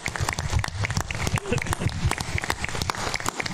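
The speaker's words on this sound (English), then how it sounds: "could we give them a round of applause?" A room at a school board meeting breaks into a burst of clapping for two girls, a dense patter of hand claps with a voice speaking over it.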